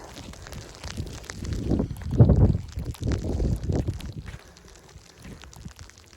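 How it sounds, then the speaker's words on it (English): Gusty wind roars in low buffeting bursts against the microphone while someone walks on a snowy sidewalk around a lake in icy weather, swelling mid-clip and then easing off. "But man, that wind."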